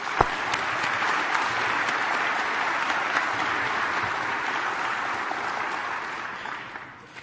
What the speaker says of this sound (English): Let's hear a round of applause for all of our honored colleagues.